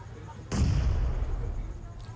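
A grenade blast in the PUBG Mobile battle-royale game, a sudden loud boom that bursts in after half a second of quiet and rumbles on as a long, heavy decay to the end.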